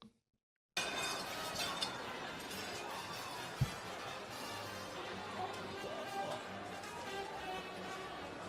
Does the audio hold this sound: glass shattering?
yes